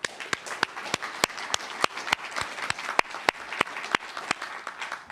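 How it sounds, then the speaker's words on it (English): Applause at a summit talk, heard as a thin scattering of distinct claps in an uneven rhythm, fairly quiet and close, suggesting a small audience, with no speech. "a round of applause."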